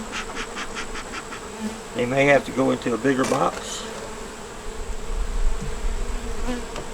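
Honey bees buzz steadily around an open hive being smoked, a close, dense drone that runs throughout, with someone speaking briefly over it.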